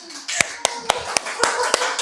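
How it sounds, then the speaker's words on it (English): A small group of people applauds together after a class exercise, with several sharp, separate claps standing out over a steady patter of lighter hand claps. "Let's all give each other a round of applause"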